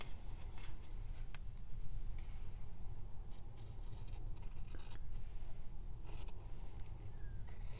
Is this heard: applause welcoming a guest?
no